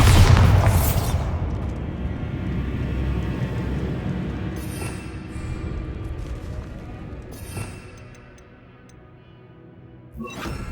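A Bombarda explosion spell in Hogwarts Legacy erupts into a loud, rumbling blast at the start, then decays into a long, heavy roar, with another burst near the end.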